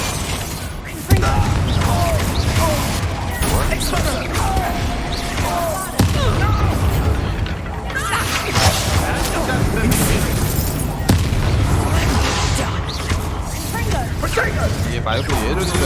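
Spell explosions from Hogwarts Legacy, including Confringo and Bombarda blasts, boom repeatedly through a dense, loud, continuous clash of crashes and game effects, with a voice speaking over the combat.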